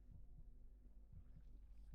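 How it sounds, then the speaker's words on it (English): A heartbeat sound effect from a game trailer throbs in a slow, steady low pulse of repeated double thumps under a constant deep hum, with no voices. "You can hear the heartbeat."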